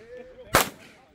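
One sharp, loud gunshot cracks close by on a shooting stage, a single abrupt burst that fades quickly, with faint voices or background tones before it.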